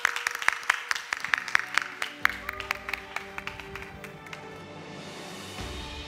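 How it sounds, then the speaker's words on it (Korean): A church congregation at a worship service claps to welcome the preacher: crisp, fairly rhythmic handclaps ring out for about four seconds, then thin out and fade, leaving a low hum behind. "박수하겠습니다"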